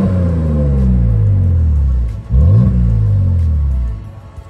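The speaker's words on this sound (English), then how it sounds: "Do some baby revs here." A warm pickup truck engine revs in a couple of short, moderate bursts, climbing and falling in pitch with a brief dip between them, loud and close with no talking.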